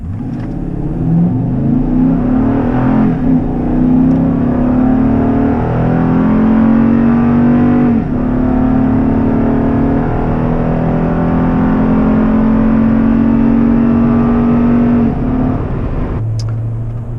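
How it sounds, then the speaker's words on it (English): A pickup truck launches hard in 4-wheel drive and accelerates, its engine note climbing through sustained revs with a brief shift break midway, loud and close throughout, with no talking. "it seems the best if I put the truck in 4-wheel drive to launch and then switch it into 2-wheel drive when I take off"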